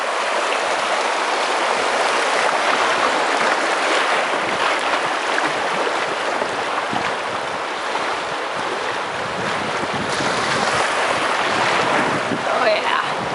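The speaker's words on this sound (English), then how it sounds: "Going down Squirrel Rapids." A canoe runs down Squirrel Rapids in Algonquin Provincial Park, wrapped in a steady, loud rush of churning whitewater with wind buffeting the microphone throughout, and no voices over it.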